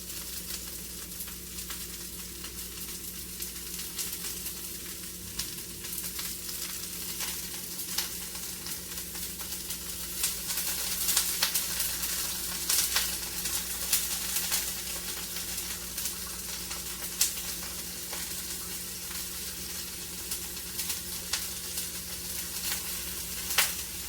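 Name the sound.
broccoli frying in a pan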